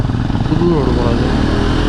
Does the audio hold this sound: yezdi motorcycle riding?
yes